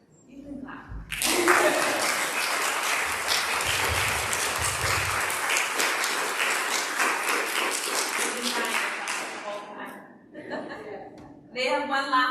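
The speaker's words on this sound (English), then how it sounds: "you can clap" Audience applause fills a Unitarian Universalist vespers service in Provincetown after live music, a loud sustained wave of clapping with some chuckling that fades out, followed by brief talk and a final burst.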